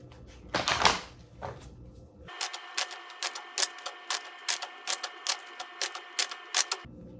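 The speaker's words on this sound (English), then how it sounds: "I'm going to take 2 more cards" Tarot cards being handled and drawn from a deck: a brief rustling shuffle, then a steady run of crisp, close clicking taps at a quick, even pace.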